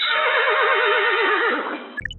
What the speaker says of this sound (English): Shadowfax, the non-fictional horse of Gandalf the Grey